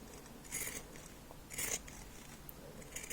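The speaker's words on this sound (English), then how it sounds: "You can just go ahead and use your pinking shears like so, and just trim up the sewing allowance." Pinking shears trim a fabric seam allowance in a few quiet crunching snips, spaced about a second apart, with no talking.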